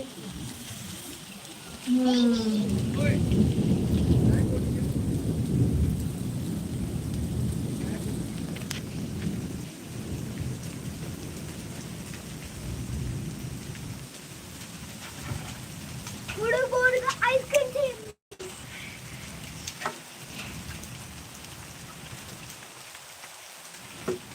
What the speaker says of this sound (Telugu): ఇప్పుడిప్పుడే వర్షం స్టార్ట్ అయింది చిన్న చిన్న ఐస్ గార్డ్లు పడుతున్నాయి